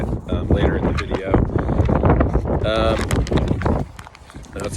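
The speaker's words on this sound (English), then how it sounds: "I know it's a windy day here" Gusty wind buffets the microphone with a steady low rumble and broadband roar, while a person talks over it nearby.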